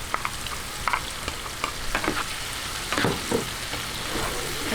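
Bangus simmers with tomato, chili and shrimp paste in a pan, giving a steady frying sizzle with irregular soft stirring scrapes close by.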